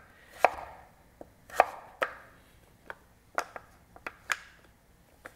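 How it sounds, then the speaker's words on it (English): A knife cuts butternut squash into squares on a board, with about a dozen crisp thuds and clicks in an uneven rhythm, close and clear against a quiet room; no voices. "Now let's cut it into our squares."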